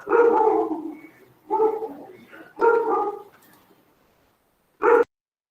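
Dogs at home barking in a handful of loud, close bursts, three clustered barks followed by a pause and one final sharp bark, with no talking.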